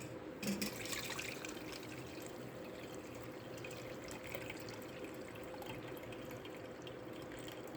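Amla juice being strained through a kitchen strainer, with a steady, soft trickle and patter of liquid running continuously at a modest level, with no voices.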